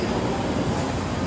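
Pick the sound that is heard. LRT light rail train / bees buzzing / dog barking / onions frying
LRT light rail train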